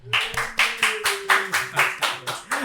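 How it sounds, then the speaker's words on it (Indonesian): An audience claps to welcome guest Pak Imam Baihaqi on a Ramadan talk show: a steady, rhythmic run of about eight sharp, evenly spaced claps over a faint sustained tone. "Tepuk tangan semuanya"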